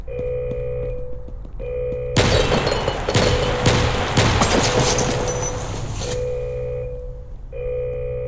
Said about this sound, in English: The resistance starts bombing the prison.